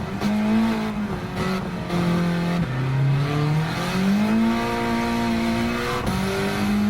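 In Gran Turismo 7, a car's engine screams and wavers in third gear as the wheels spin while cornering. The revs climb, dip and climb again, loud and close with no talk.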